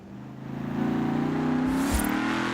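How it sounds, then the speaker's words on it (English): A supercharged car in Forza Horizon 4 accelerates with a steady, rising mechanical whine over the engine drone, close and fairly quiet, ending in a brief burst of higher noise. "Oh, there's a little supercharger whine then."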